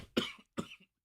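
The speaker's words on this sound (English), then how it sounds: "be a quiet cough, but it turned out to be a wet cough" Two harsh, wet coughs in quick succession, close and loud with a short gap between them, during a morning show livestream.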